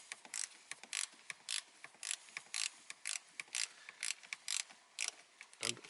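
A ratchet wrench tightens a nut on a car battery terminal, giving quick repeated clicking bursts in a steady back-and-forth rhythm, close and fairly quiet.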